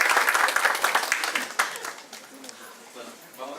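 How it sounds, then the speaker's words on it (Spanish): Audience at a talk on the stock exchange and securities market breaks into applause, a thick burst of clapping that thins out over a few seconds. "Un fuerte aplauso."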